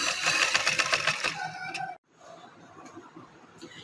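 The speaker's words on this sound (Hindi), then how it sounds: "इसके किनारे किनारे पे सिलाई लगाएंगे" A sewing machine stitches along the edges of a trouser leg in a rapid, dense burst for about two seconds, then stops, leaving faint handling noise.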